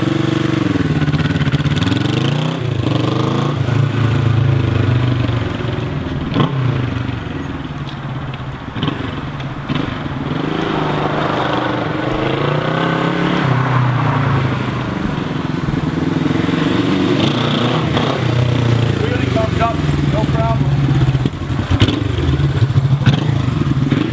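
A 1968 Honda CB450K1 motorcycle idles steadily at low revs, its exhaust note a close, loud, even burble with slight mechanical clatter, occasionally swelling a little as the throttle is blipped.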